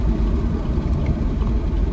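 A Whipple supercharged Camaro SS 1LE engine blips during an automatic rev match, a loud, close, brief surge of deep rumbling engine sound.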